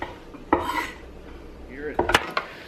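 Metal utensils clink and scrape against a pan in a few sharp bursts, with a soft scraping stir between them, while cooking shakshuka starting from a cold pan and cold oil.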